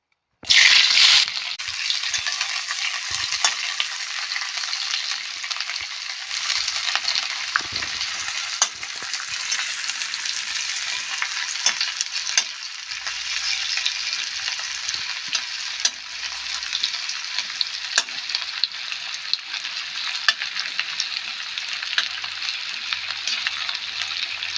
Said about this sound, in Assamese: onion and ginseng ভাজি লম ভাল কৰি ভাজি লৈ